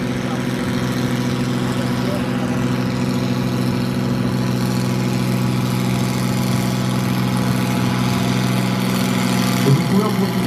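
A production tractor's engine idles at a steady, throbbing drone during a tractor pulling demonstration at Ranes, continuous and fairly close, with a slight swell near the end.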